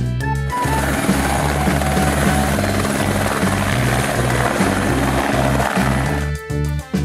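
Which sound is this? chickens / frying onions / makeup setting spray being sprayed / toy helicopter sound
toy helicopter sound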